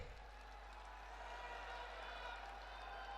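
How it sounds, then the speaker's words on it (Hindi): A large outdoor crowd at a political rally in Kanpur, Uttar Pradesh, applauding in a dense, steady wash of clapping that stays fairly constant the whole time. "एक बार तालियां फिर बजा दो जोरदार"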